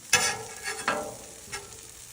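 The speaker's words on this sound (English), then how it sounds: "And we'll throw our meat on there." Smoked brisket sizzles on a Blackstone griddle, a bright crackling hiss with a few scraping, stirring bursts as the meat is moved; no talking.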